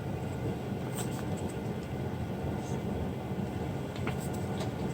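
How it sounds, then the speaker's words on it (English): Dough for Jamaican fried johnny cakes sizzles in oil in a frying pan, a steady broadband hiss that carries on evenly throughout at moderate loudness with faint occasional clicks. "I'll be placing these in the frying pan with the oil."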